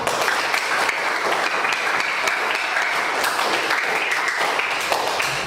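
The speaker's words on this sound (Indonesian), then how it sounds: "Ya, tepuk tangan untuk semuanya." A classroom of students applauds for everyone in a school lesson, a steady dense patter of many hands clapping close by at an even level throughout.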